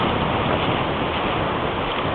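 Ocean surf washing onto the beach at Ubatuba on the north coast of São Paulo, Brazil, a steady, dense broadband roar that stays loud and unbroken throughout with no voices.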